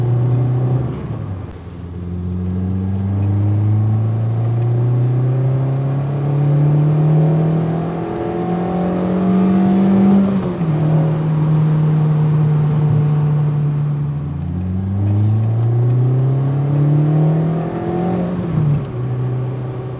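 A Peugeot 106 Rallye phase 1 engine revs repeatedly, its pitch climbing and falling in long sweeps, loud and close, with a steady rumble underneath and no talking.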